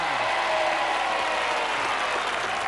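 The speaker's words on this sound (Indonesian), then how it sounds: "Tepuk tangan sekali lagi untuk keluarga Sarifa." A studio audience on a family game show applauds the Sarifa family, a continuous dense burst of clapping at steady loudness.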